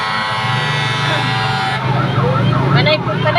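Fire truck sirens wail and shift pitch as engines arrive at a house fire, loud and near, with vehicle rumble and voices talking underneath as another siren joins in.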